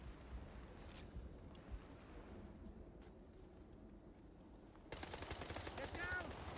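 Gunfire in a video game comes as faint, rapid shots. A sharper, louder burst of fire breaks in near the end.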